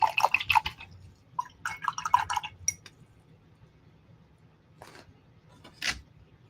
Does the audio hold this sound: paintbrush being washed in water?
yes